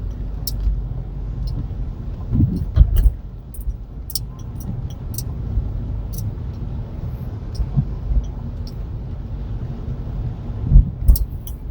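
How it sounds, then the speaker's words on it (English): A car drives along Ala Moana Boulevard in Honolulu, heard from inside as a low steady road rumble with light wind noise and scattered clicks and knocks, no talking. "I'm driving down Alamona Boulevard"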